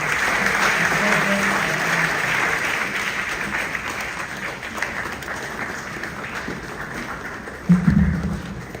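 Steady applause from an audience at a political gathering of Ghana's NPP party, sustained clapping across the whole stretch and tapering toward the end, with a brief low thump near the close.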